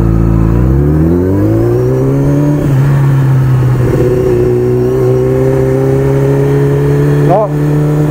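A car engine cranks and catches, then revs up and settles into a steady idle, loud and close throughout.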